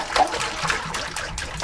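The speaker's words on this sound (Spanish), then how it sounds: "ahora vamos a poner agua aquí en el cubo" Water is poured into a bucket at a beekeeping site with hives built into masonry niches, giving a soft, close trickling splash with faint gurgles and no speech.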